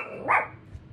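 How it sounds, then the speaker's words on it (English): A single short bark from a stress relief dog, close and moderately loud, followed by quiet background noise and a faint low thump. "Max, that's my PTS stress relief dog."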